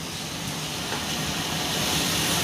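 Pepper chicken coated with garam masala and soy sauce sizzles on a grill, a continuous, close, even hiss that grows slightly louder, with no talking.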